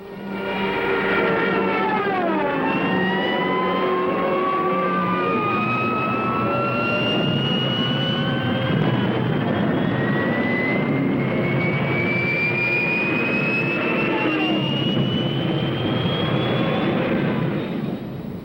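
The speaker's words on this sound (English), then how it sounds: "Rommel sends in Stuka dive bombers to blast the defenders from their emplacements" Stuka dive bombers roar overhead in a desert battle, a loud sustained engine drone with rising and falling whine that sweeps upward and holds for many seconds, with no voices.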